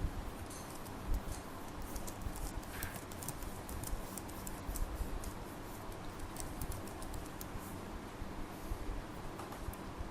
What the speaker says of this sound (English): Now I'll be typing the email ID and password.